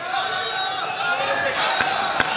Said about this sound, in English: The crowd go crazy. Urging Wu on.